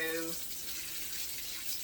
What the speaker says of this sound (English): I was just washing my rice.